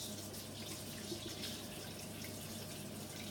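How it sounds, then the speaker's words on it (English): Tap water running steadily into a sink while a lobster is rinsed beneath it, a faint, even splashing hiss with a low hum underneath. "rinse the lobster that had the eggs in"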